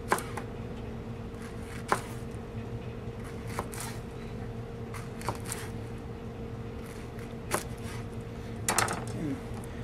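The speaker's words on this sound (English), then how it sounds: "And you cut these into about a quarter inch slices." A knife slicing a peeled pineapple into quarter-inch slices on a board: a faint, steady hum with sharp, isolated cuts landing every second or two, and a quick cluster of strokes near the end.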